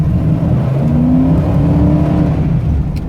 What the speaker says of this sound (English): it'll still get up and go pretty good if you floor it